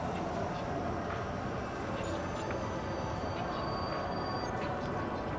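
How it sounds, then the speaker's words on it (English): Flying trams pass overhead in the Star Citizen video game, making a continuous rail-like rumble with faint high tonal whines drifting over it at a steady level. "So here's where the trams fly over, where we were before, and they come across here."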